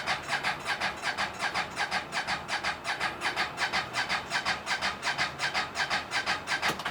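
A 2023 CFMOTO UForce 1000 XL side-by-side with a 1000cc engine cranks over and over without catching, the starter churning in a fast, even rhythm for several seconds, close and loud with no talk.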